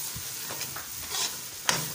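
Carrot halwa (gajar ka halwa) frying in a pan gives a soft, continuous sizzle under several scraping stirs, ending with one sharp clink of the spoon against the pan; close and fairly quiet, with no speech.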